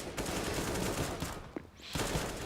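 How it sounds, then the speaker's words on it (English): Rapid pistol gunfire in Counter-Strike on the de_nuke map during a pro esports match, dense overlapping shots in quick bursts, loud and continuous with a brief lull near the end. "these pistols are doing some work here"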